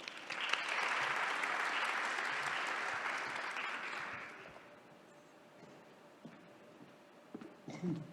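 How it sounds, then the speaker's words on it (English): Panelists at a sustainability talk are welcomed with a round of audience applause, steady clapping for about four seconds that fades away into a quiet room with a few faint shuffles and thumps. "Please give them a round of applause."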